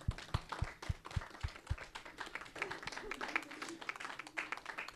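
A class applauds on the Talk About It show: several slow, separate heavy claps open, then many quicker, lighter hand claps patter on, fairly faint, with a voice briefly murmuring beneath.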